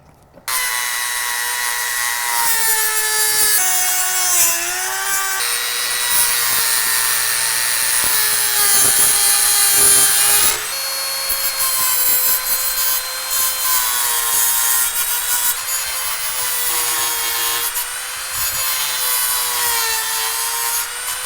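A cross-country ski edge being trimmed along a steel guide held by a small clamp, producing a loud, continuous rasping, sawing scrape with sustained tonal whine, close and unbroken for about twenty seconds.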